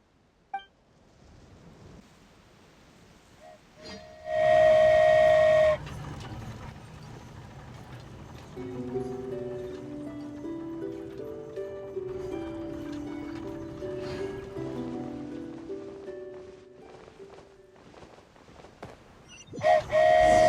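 A steam train whistle sounds in Genshin Impact, two loud sustained blasts separated by a stretch of game music, with a third blast starting at the end.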